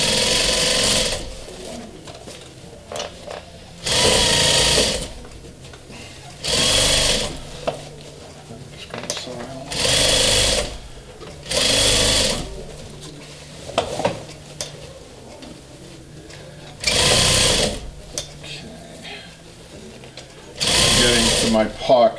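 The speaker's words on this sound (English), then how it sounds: "Sew the pocket first." A sewing machine stitches the pocket of a sofa cushion cover during upholstery work, running in about eight loud, steady bursts of a few seconds each, separated by quieter pauses with handling sounds.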